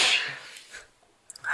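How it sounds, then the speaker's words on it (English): A single person's sneeze, a sharp burst at the start that fades into a breathy tail, followed by quiet with a faint snuffle near the end, close to the microphone during an interview. "I've been like needing to sneeze, bro, for like a cool like 10 minutes."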